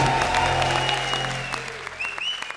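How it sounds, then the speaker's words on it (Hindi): Studio audience applause on a television comedy show, a dense steady wash of clapping that fills the whole stretch and slowly thins toward the end, close and loud, with no talking over it. "जोरदार तालियां"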